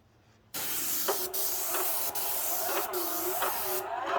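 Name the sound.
airless paint sprayer spraying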